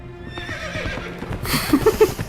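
A horse in the video game Metal Gear Solid Peace Walker gives a short neigh at the end of a brief burst of game noise, close and fairly loud.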